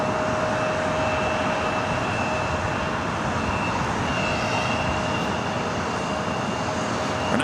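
An Alaska SkyWest Embraer E175 LR jet at Los Angeles airport heading for SFO, a constant loud engine roar with a sustained tonal whine running throughout, unbroken and without talk.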